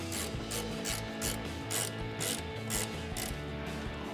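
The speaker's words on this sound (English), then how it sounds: "Grab a 14mm socket, or we're using a ratcheting wrench here" A ratcheting wrench clicks in quick repeated bursts while backing off 14mm nuts on top of a Toyota Tacoma strut, a close, rhythmic metallic ratchet about every half second.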